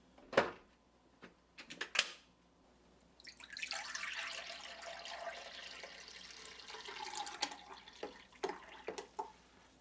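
Running water rinses out the hopper of a Kuvings Auto10 Plus slow juicer, a steady splashing stream in the middle with brief clinks and drips before and after, close and fairly quiet.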